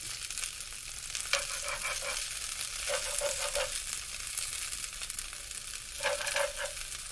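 Sliced yellow squash frying in oil in a skillet: a steady crackling sizzle with recurring bursts of stirring and spatula scraping, close and unbroken.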